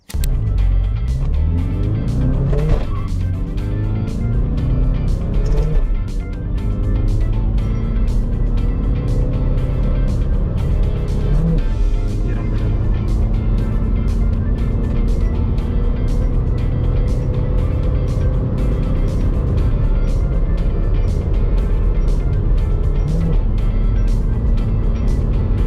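A 2024 MG Hector SUV accelerates hard from standstill to 150 km/h, its engine note rising steadily through repeated gear changes, loud and close from inside the cabin for the whole stretch with no talking.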